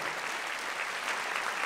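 Audience applause at a folk ensemble's anniversary concert, a dense, even wash of many hands clapping from a large crowd, steady and fairly distant throughout.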